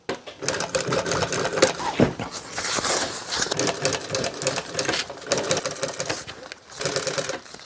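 Sewing machine stitching car-seat upholstery for a 1966 Ford Galaxie, a fast continuous mechanical chatter running nearly throughout with short pauses, close and moderately loud.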